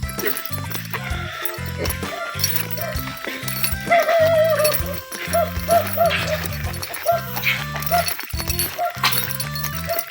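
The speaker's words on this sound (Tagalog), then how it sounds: "nakatali yung mga aso kung hindi habol tayo niyan." Several tied-up dogs in a rural barangay of Ragay bark in repeated close bursts, with yips and whines mixed in and faint clinking underneath.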